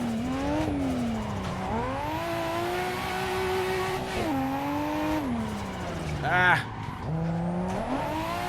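A car drifts in a racing sim played on a Fanatec CSL DD wheel, its engine rising and falling through gear changes while a sharp tire squeal cuts in near the end, with someone talking over it.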